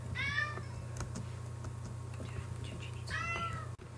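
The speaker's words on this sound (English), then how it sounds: "That was just our cat." A pet cat meows indoors, two short, fairly close calls separated by a few seconds, over a low steady electrical hum with faint clicks and keyboard-like taps in between.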